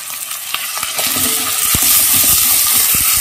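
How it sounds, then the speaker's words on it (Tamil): Chopped tomato, curry leaves and green chilli fry in melting mutton fat, crackling loudly and close, with sharp knocks of a spoon against the pan as the mix is stirred. "வெட்டி வச்சுருக்க தக்காளி, கருவேப்பிலை, பச்சை மிளகாய் இதெல்லாம் சேர்த்துக்கேன்."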